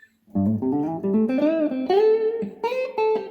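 Up-tempo blues guitar lick, a quick run of bent and sliding single notes played close and alone, lasting a few seconds.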